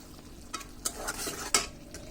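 Chopped onion, green chili and chili flakes fry in a pan for tomato chutney, a light sizzle broken by a few sharp clicks of a utensil stirring against the pan, close by and without speech.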